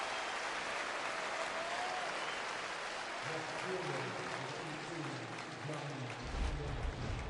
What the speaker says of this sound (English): this crowd now shows their appreciation to Roy Halladay